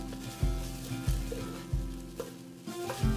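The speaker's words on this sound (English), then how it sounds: "Give that a little stir." Red pepper flakes stirred into a hot, sizzling pan of Spanish-style chicken and rice, with steady frying under regular scraping strokes every half second or so and a low tonal hum throughout.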